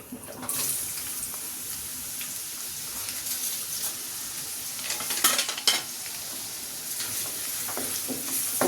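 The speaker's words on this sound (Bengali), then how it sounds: "এখন এর মধ্যে একটু পেঁয়াজ দিয়ে দিচ্ছি" Onion frying in a pan for an egg korma gives a steady, moderately loud sizzle. Brief scraping and stirring clicks cut through it now and then.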